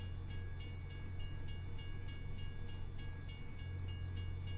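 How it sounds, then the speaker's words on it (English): A diesel train engine in a farming video game, originally built for torpedo boats, gives a steady low rumble with a faint rhythmic clatter. It runs continuously throughout. "I believe the engine was originally built for torpedo boats, and then they moved it into a train."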